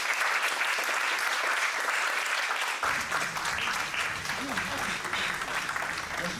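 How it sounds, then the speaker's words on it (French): A conference audience applauds the vice-president of a patient association as she is introduced, a loud, continuous roar of clapping that carries through the whole stretch, with low voices and movement joining underneath partway in. "Merci, sous vos applaudissements."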